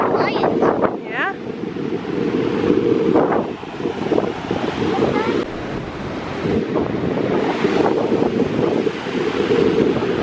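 Surf and gusty wind on a beach, with steady rushing waves and heavy wind buffeting the microphone close up. Faint voices can be heard now and then.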